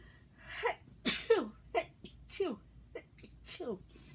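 Close, breathy sniffles and short vocal catches building toward a sneeze, several bursts spread over a few seconds.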